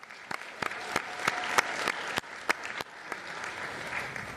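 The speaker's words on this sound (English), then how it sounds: "Round of applause for yourself." Applause from an audience at a city commission meeting, honoring graduates: a thin scatter of claps with a few sharp, louder individual claps standing out, moderate level throughout.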